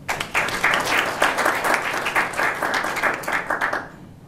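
Conference audience applauding at the opening of an international conference on smart systems and technologies, a dense run of clapping that fades out near the end.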